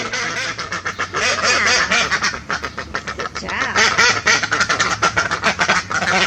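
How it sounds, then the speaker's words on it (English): Ducks quack steadily and close by in a busy, overlapping chorus, with a brief spoken remark near the start. "Our ducks are early risers, and they're the first ones to be making noise in the morning."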